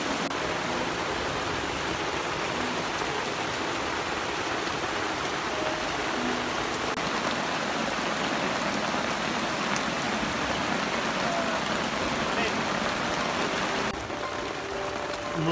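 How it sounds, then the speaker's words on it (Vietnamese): Rain falls steadily on a forest, a continuous wash of drops on leaves and ground, even and enveloping from start to finish. "Mưa rừng vẫn tiếp tục"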